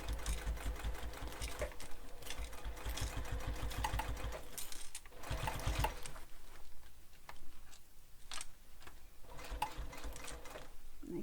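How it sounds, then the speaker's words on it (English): A domestic sewing machine runs steadily through a backpack with mesh and clips, a close, rapid ticking stitch that slows and pauses briefly, then starts up again and continues. "I like to sew until my presser foot touches the clips"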